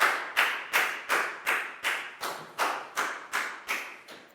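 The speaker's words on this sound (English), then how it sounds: "a big round of applause for Dan" A classroom of Year 4 pupils claps for a student in an even rhythmic beat, about a dozen sharp unison claps spaced steadily apart, close and fairly loud with no talking.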